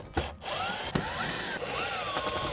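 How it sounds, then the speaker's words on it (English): An impact gun fitted with a 5/16 head backs out the bolts holding a Southern Pride smoker control panel, giving a close, high motor whine with rising and falling pitch sweeps and brief sharp bursts. "I'm going to be using an impact gun with a 5/16 head on it to remove these 6 bolts"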